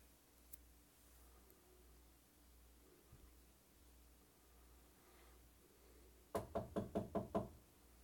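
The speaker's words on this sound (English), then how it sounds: "When I knock, I want you to knock back" Sharp knocks on a solid surface inside a house, a quick burst of about six close, loud raps following a long stretch of quiet room tone.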